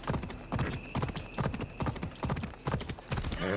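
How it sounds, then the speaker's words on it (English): A horse's hooves clip-clop at a brisk, steady rhythm in Assassin's Creed Odyssey, close and loud, each hoofbeat crisp and distinct, with no talk over it. "Прикольная лошадь."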